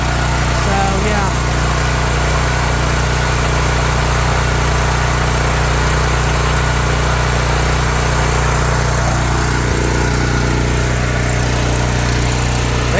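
A Honda portable generator engine runs steadily, a loud continuous droning hum with a constant low rumble that stays even throughout, heard up close.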